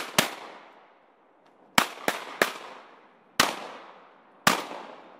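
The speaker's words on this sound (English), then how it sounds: "Go ahead and shoot. Shoot him." Shotguns fire during a duck hunt, six sharp loud blasts in an uneven sequence, some in quick succession, each ringing out and fading across open air.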